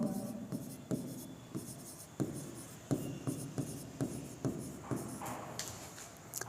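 Marker or chalk strokes on a board while a chemistry definition is written out, a steady run of short scratchy rubbing bursts at close range, some faint speech in the background.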